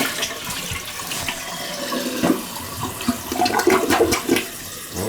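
An old, leaking 1.6-gallon toilet, partly rebuilt, flushes with a loud, close rush of swirling water that gurgles and surges unevenly for several seconds.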